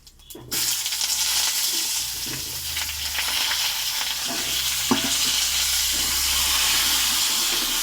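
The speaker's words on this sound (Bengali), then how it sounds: "লাল লাল করে আমি আলুটা ভাজবো" Potato pieces fry in hot oil seasoned with bay leaf and cumin, giving a loud, steady, close sizzle with an occasional stir or scrape. It starts abruptly and then runs unbroken, with no talking.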